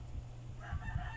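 Native chickens crowing and clucking at a farm range in Lapu-Lapu City, Cebu, with a short, faint bird call rising over low background noise.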